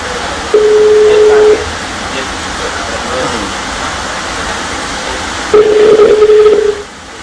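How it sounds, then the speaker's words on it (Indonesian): Telephone tones sound during a call attempt, with two steady electronic beeps about a second long separated by a pause, heard over a background hiss with talk faintly underneath. "ini sambungan telepon dengan Wali Kota Jakarta Utara Pak Rustam Effendi ya"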